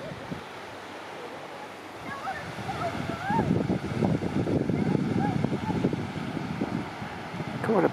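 Surf washing onto the beach at Thub Thim on Koh Samet, Thailand, a steady broadband wash with rising surges, mixed with wind noise and faint chirping birds, while a person talks through much of it.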